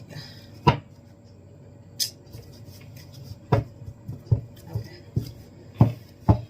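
Tarot cards being shuffled and tapped, a series of short, sharp clicks and riffles spaced irregularly over a quiet background.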